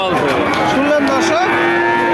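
A cow moos loudly and close by at the busy Satmail livestock market selling farm-suitable bulls and calves, a long drawn-out call that rises and falls, over a steady background murmur.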